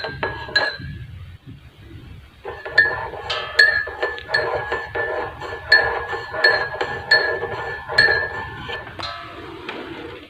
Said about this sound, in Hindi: अब 1 चम्मच शहद शामिल कर देंगे इसमें, फिर इसको अच्छी तरह मिक्स कर लेंगे।